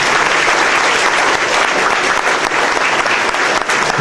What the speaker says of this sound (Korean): 다시 한번 오늘 퇴임하시는 한균영 교수님께 다시 한번 뜨거운 박수를 보내주시면 감사하겠습니다